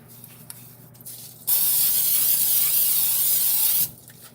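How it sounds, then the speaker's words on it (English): A steady non-stick cooking spray hisses loudly for a couple of seconds, starting and stopping abruptly amid faint background noise. "The non-stick spray."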